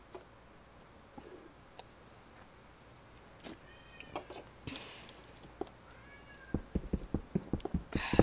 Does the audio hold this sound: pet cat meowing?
yes